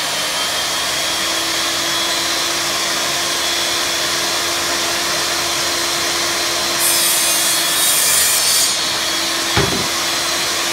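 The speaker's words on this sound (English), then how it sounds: "First, we have to split the board at the width we want it." A power saw rips a barnwood board to width for a picture frame, a loud, steady whirring hiss running without pause, with a brief knock near the end and no voices.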